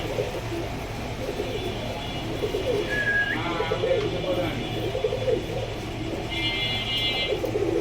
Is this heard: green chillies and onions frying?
no